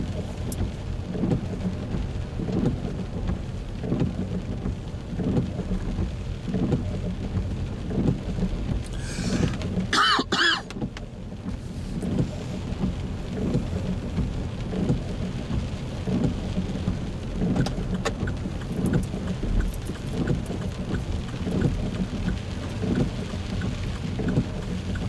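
Heavy rain pounds steadily on a car during a driving lesson, heard from inside as a continuous loud patter with a brief harsher burst midway and no talking.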